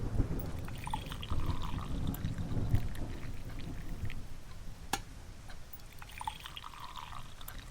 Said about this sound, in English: Thanks for pouring.